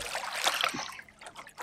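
A caught smallmouth bass is released back into a northern Ontario lake, giving a soft splash and trickle of water close by, followed by quieter dribbling.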